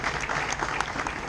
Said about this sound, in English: I would like to give them a big clap